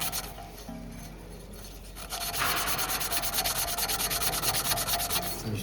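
Hand sanding a rear brake disc from a Mercedes A-Class W177, rapid rhythmic back-and-forth rubbing strokes that start after a quiet moment and continue steadily, close and clear.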